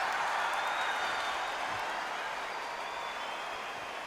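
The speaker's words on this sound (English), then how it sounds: "The crowd here cannot wait. They've been buzzing all day long" A boxing arena crowd in a boxing video game buzzes steadily, a dense, continuous roar of many voices filling the space without pause.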